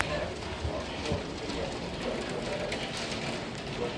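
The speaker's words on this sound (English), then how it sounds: "You can hear the hail hitting the windows." Hail rattles against windows during a severe thunderstorm, a continuous dense clatter with scattered sharper hits, heard under a low murmuring voice.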